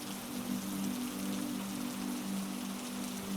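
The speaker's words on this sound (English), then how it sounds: "The rain outside taps against the glass." Rain taps steadily against window glass in a soft, even patter under a low hum, with no voices.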